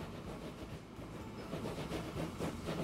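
Trains rolling in the rail simulation game Transport Fever 2, a faint, steady low rumble with soft rhythmic clatter and hiss, distant and quiet throughout the short stretch.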